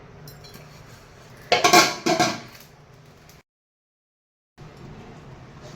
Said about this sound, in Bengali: এবার আমি ঢাকনা দিয়ে দেবো